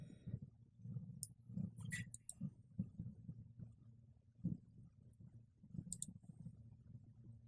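Faint mouse clicks on a Create button while building a Google Analytics custom report, a few sharp, quiet ticks scattered over a low background hum with no voices.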